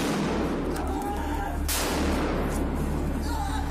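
Gunfire recorded by a college surveillance camera during a school shooting in Kerch, with one sharp, prominent shot standing out against a constant, harsh, noisy background of low-quality recording.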